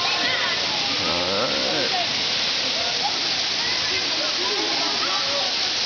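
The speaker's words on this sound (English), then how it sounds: "This is the Olemoe Waterfall, okay, located on the island of Hawaii in Samoa." Olemoe Waterfall on the island of Hawaii, a loud, constant roar of falling water filling the scene. A voice speaks briefly over it.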